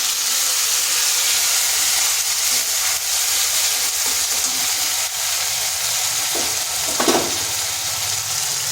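Spice paste hitting hot oil in a pan sets off a steady, loud broadband sizzle that runs unbroken, with a short burst of stirring or spattering near the end and no talk.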